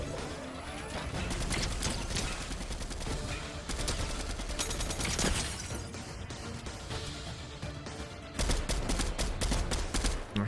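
Fortnite Battle Royale gunfight, dense bursts of rapid gunfire and impact crackles layered over game noise, continuous and busy with a louder flurry near the end.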